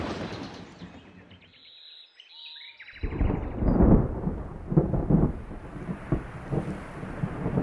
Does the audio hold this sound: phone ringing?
no